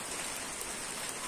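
Rain falls steadily beneath a tree during wet-season weather, a constant close hiss of drops with no talking.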